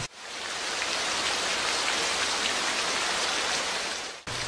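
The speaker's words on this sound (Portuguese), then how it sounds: "Então curtam aí um pouco da chuva aqui no norte das Gerais." Heavy rain pours in the north of Minas Gerais, Brazil, a dense, loud, steady hiss of drops on surfaces that fills the whole stretch with no talking, cutting off abruptly near the end.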